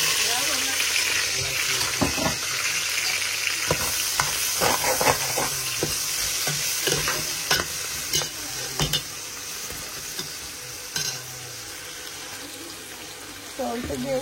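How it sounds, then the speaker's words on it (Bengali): Garlic and onion frying in hot oil for a Bangladeshi-style curry, a steady loud sizzle throughout with repeated scraping stir strokes and utensil knocks, close up, with a brief voice in the background. "অয়েল গরম হয়ে গেছে, দিয়ে দিলাম গার্লিক আনিয়ন"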